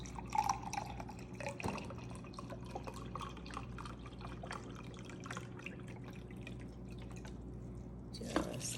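Chicken broth is poured from a cup over cooked ground beef in a pan, giving a steady soft trickle with scattered drips and light splashes over several seconds, quiet and close, ending with a brief louder splash.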